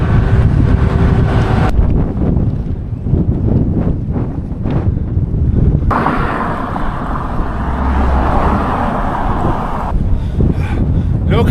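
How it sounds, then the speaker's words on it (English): Strong wind gusts roar across a microphone on a bridge along the Karakoram Highway in Xinjiang, loud buffeting that swells and drops in bursts, with a voice occasionally under the noise. "Whenever there's a massive wind gust,"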